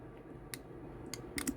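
A few sparse keystrokes click on a computer keyboard during slow one-handed typing, isolated taps spaced irregularly over a quiet background.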